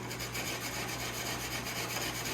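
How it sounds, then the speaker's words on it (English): A wire brush scrubs the bare aluminum inside a cut snowmobile tunnel, giving a faint, steady rasping rub with quick repeated strokes and no voices. "So basically I'm wire brushing the inside"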